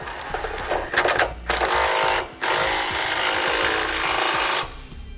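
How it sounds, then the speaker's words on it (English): A power tool with a 17mm socket snugs up steering stabilizer hardware on an RV chassis, giving loud close rattling bursts, a short pause, then a sustained buzzing run that cuts off. "I'm going to be coming back with a 17mm socket and snug up all my hardware"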